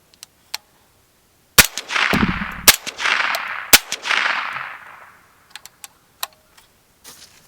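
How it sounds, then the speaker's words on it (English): Three sharp, muffled suppressed rifle shots of 124-grain ammunition into dirt in quick succession, each followed by a whooshing echo that rolls away, with scattered small clicks and taps before and after. "we're gonna do 3 shots, 124 grain Watula ammunition into dirt right over here"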